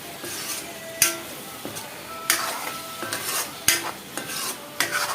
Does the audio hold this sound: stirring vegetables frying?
yes